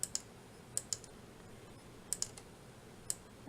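Sparse mouse clicks while ungrouping a design in software, working on a pop-up card with black glitter cardstock: seven or eight sharp, quiet clicks spaced irregularly, some in quick pairs, over faint background hum.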